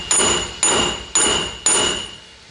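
Four evenly spaced, ringing metallic blows from a hammer on a wheel hub during a reinstall. Each sharp strike carries a bright tonal ring that fades before the next one lands.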